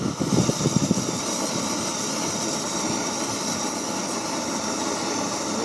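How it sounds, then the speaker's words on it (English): A gas burner on a portable flat-pack fiber pottery kiln runs at full throttle, a steady loud roaring hiss that holds evenly after a brief rumbling start. "how much throttle I got left on this burner"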